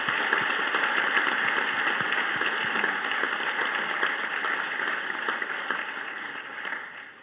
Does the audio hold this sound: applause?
yes